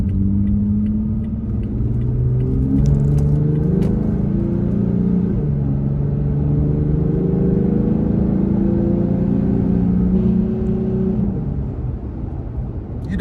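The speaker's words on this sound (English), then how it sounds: "It's a little bit throatier." A Toyota Tacoma engine fitted with a performance intake revs and accelerates, a throaty, rising mid-range engine rumble that holds for several seconds and then eases off, with no talking over it.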